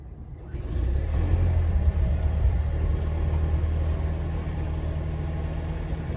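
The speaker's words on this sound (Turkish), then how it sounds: "Çalıştırma sesine bakacağız" A Volvo S60 2.0 B5 hybrid engine starts after a brief quiet moment, then settles into a steady low idle rumble heard close and alone.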